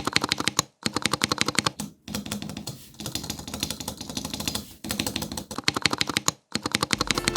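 A metal mechanical keyboard with lubed stabilizers is tested on a rubbery surface: rapid bursts of crisp key clacks and space bar thocks in clustered runs, separated by brief silent pauses, close and clear.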